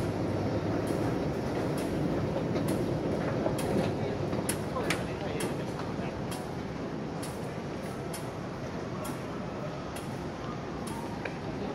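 A Hong Kong MTR train runs along the rails, a steady, continuous rumble with faint rhythmic clicks, heard from nearby while people talk in the background.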